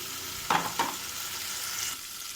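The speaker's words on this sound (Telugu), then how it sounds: "ఈ రైస్ ఇందులో వేసేసుకుందాము." Cooked rice tipped into a hot pan of lemon-juice seasoning for lemon rice, two quick sizzling bursts as it lands, then a steady soft frying hiss close by.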